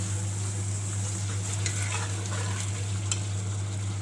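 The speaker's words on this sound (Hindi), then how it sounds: "अब इसको अच्छे से भून रहे हैं" Meat karahi with julienned ginger stir-fries in a pan, giving a steady, continuous sizzle and crackle throughout with no pauses and no voices.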